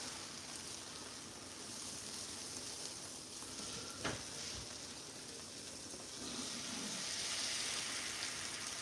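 Egg frying in a pan, a steady close sizzle that hisses on without pause, with a brief scrape or clink partway through as it is nudged.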